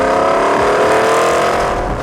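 A 2008 Porsche Cayenne GTS with its V8 drones loudly and steadily from inside the cabin while driving, a continuous close engine hum with faint road noise and no talk.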